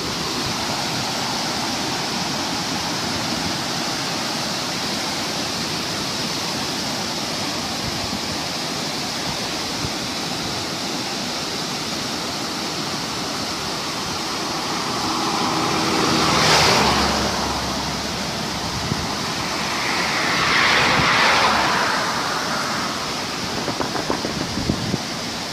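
Rushing water of the Gravatá creek in Santana do Ipanema, heard from a bridge after a thunderstorm: a steady, loud broadband roar throughout, swelling briefly twice near the end.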